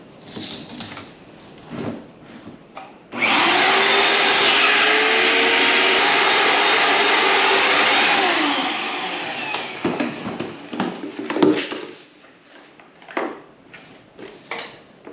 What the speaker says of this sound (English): that vacuum cleaner ain't sucking that leaf out of there